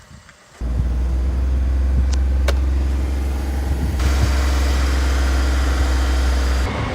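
A truck engine starts up and settles into a loud, steady idle with a deep, even rumble close by, continuing unbroken to the end.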